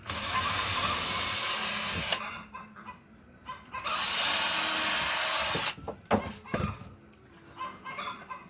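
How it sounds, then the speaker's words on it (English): A power drill bores pilot holes into wooden greenhouse frame boards in two sustained, loud whirring runs of a couple of seconds each, separated by quiet pauses with a few clunks of handling. "I pre-drill a couple of holes here on the side"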